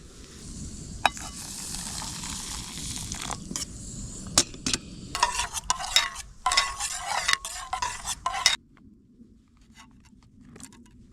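A spoon scraping and stirring hoisin and garlic sauce in a camping pot outdoors at a wild camp, irregular clinks and gentle sizzling that grow busier, then stop.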